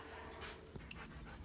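A dog pants quickly and softly close by, short breathy puffs in a quiet space.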